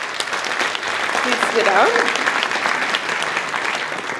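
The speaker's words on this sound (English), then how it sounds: "Give him a warm applause." Conference audience applause welcoming a speaker to the stage, steady dense clapping throughout, with a brief voice speaking over it partway through.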